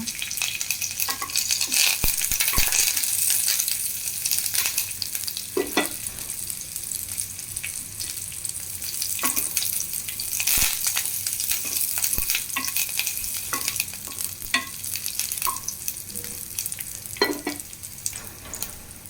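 Chillies and curry leaves roast in a pan with a continuous close sizzle. Scattered sharp scrapes and knocks from stirring break in irregularly, and no one talks.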